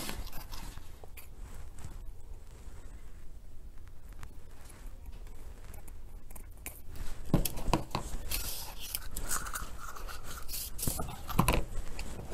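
Scissors cut through diamond wrap for a red Valentine heart tree centerpiece, with crinkly snips and rustling that grow busier and louder toward the end, close up.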